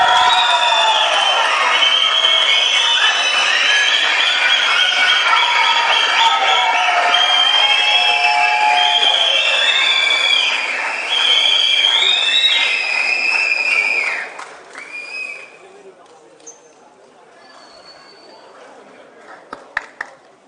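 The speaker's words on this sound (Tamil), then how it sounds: "ஒரு நல்ல கைத்தட்டல கொடுக்கலாம்." At the audio launch for the film Garudan, a large crowd claps, cheers and whistles loudly for about fourteen seconds, shrill whistles and shouts over the din, before the noise suddenly drops to a faint murmur with scattered sounds.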